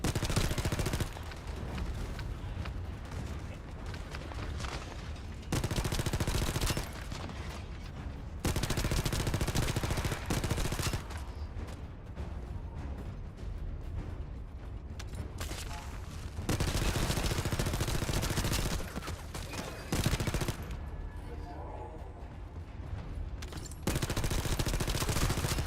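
Sustained bursts of automatic gunfire from weapons in the video game The First Descendant, loud and dense, arriving in several long volleys separated by short quieter gaps with background game sounds.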